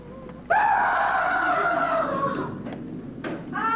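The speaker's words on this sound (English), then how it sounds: "I gotta scream." A person lets out a loud, sustained scream lasting about two seconds, then tails off into a few shorter, weaker cries.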